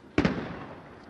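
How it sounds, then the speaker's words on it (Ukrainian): A single sharp explosion with a quick double crack by a roadside near a checkpoint in Syria, followed by a fading rumble against faint background noise. "на відео іранського телеканалу потрапив звук вибуху"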